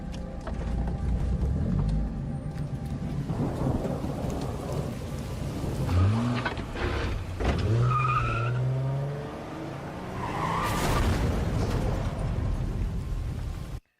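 A car in the game Silent Hill 2 Remake moves through steady heavy rain, with a continuous wash of downpour, tyre skids and rumbling swells, plus a few sliding tonal sounds near the middle.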